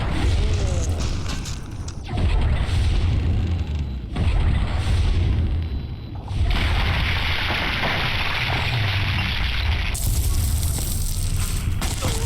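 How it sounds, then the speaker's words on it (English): Distant explosions in a video game, sounding as heavy low booms and a dense roaring rumble that swell and recede over several seconds, with no talking. "I don't know what that explosion was behind."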